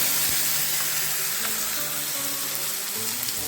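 Ground raw mango chutney goes into a sizzling tempering of chili and curry leaves in a pan, a steady close hiss and sizzle with soft bubbling, no voices.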